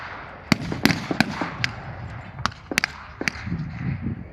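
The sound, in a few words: gunfire at a WW2 battle re-enactment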